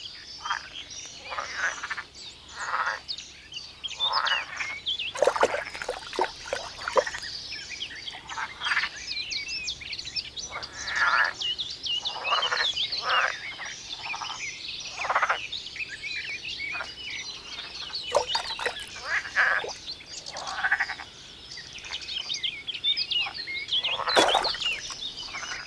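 Frogs croak in a dense breeding-season chorus, with rapid pulsed calls repeating in steady bursts from several animals at once and overlapping one another throughout, moderately loud and fairly close.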